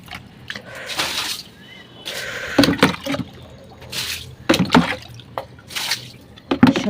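Garden plants being rinsed with water, giving irregular bursts of splashing and dripping that start and stop, close by and moderately loud.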